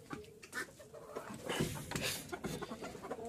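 Several fancy-breed chickens, a rooster with hens, cluck and call close by in a backyard coop, short overlapping bursts of clucking with a busy, bright farmyard texture throughout.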